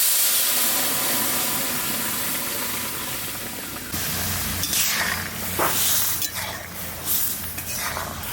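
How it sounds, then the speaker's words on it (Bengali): Lentil dal is poured into hot tempering of oil with a torn bay leaf and five-spice seeds, and it hisses and sputters in a steady steamy sizzle, with bursts of louder spattering and a few utensil clinks. "ডালটা ঢেলে দিচ্ছি।"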